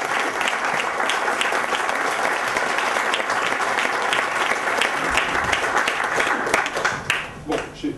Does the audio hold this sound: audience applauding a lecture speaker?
yes